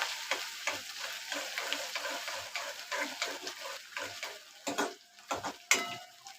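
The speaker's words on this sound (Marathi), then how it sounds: "तर कांदा पिंक कलर होईपर्यंत भाजून घ्यायचा" Onion with a little turmeric frying in a pan until it turns pink, a steady crackling sizzle with frequent stirring scrapes and a few sharp clinks of the spatula against the pan.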